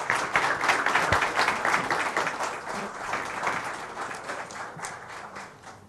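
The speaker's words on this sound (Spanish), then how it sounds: "Recibámoslo con un fuerte aplauso." Forum audience claps in welcome for an education forum speaker, a dense burst of applause that starts strong and gradually fades over several seconds.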